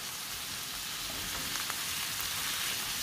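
Noodles stir-frying over high heat, a dense even hiss of sizzling oil that runs steadily at moderate level with faint stirring scrapes and no talking.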